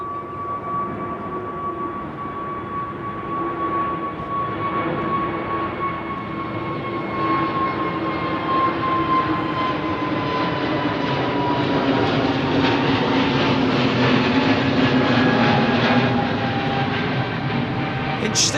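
An aircraft departing Heathrow runway 09R produces a loud, sustained jet roar with a steady engine whine that slowly slides downward in pitch, building slightly as it passes, with no talk.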